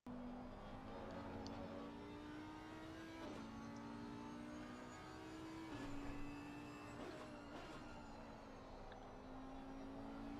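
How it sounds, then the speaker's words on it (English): An Audi race car in a sim racing game at Brands Hatch, its engine droning loud and close, pitch climbing steadily and dropping sharply at each of several gear shifts. "So as you can see, the Audi sounds completely different to the other cars."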